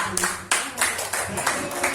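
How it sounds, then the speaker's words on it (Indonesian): A group of schoolchildren in a classroom claps in a fast, steady rhythm of hand claps, close and lively, for a brief burst. "Oke, tepuk tangan yang meriah."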